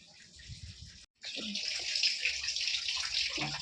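Close, steady rush of tap water pouring into a container, briefly interrupted, then running on with a full, hollow gush.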